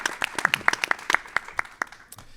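Applause from a town hall audience, a scattered run of sharp individual claps rather than a dense roar, fairly close and tapering off toward the end.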